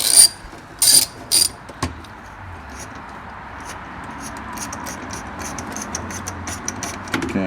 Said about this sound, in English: And you want to take this bolt out.